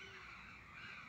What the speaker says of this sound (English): Noisy birds. Maybe they're hungry, the crows.